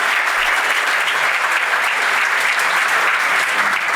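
Steady, dense applause from an audience fills the whole stretch for Bea, a company presenter on a coffee-chat show, holding an even, loud level without pause.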